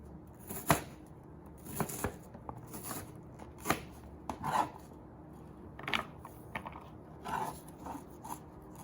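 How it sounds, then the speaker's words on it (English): A knife dicing a large onion on a cutting board, a quiet, close series of crisp chops and scraping strokes at an uneven rhythm. "So then I'm going to cut it this way, so then it looks diced."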